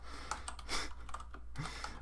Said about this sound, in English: I wasn't looking when I was typing